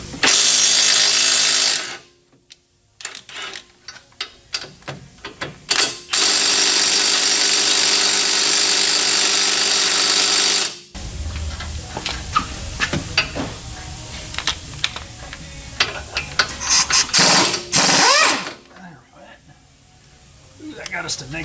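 In a shop, bolts are loosened on a lifted Ford Maverick with a Rough Country kit, heard as loud, sustained power-tool bursts separated by gaps with clanks and rattles, and voices talking in between.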